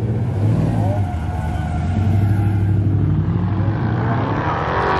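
A hot rod's engine rumbles at a large outdoor Mopar car show, a loud, steady low idle with slight revs, close by and continuous, with crowd noise around it.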